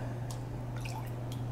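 Tank water poured from a cup into a Fluval AquaClear 70 filter gives faint splashing drips over a steady low hum, a few soft liquid blips in quick succession.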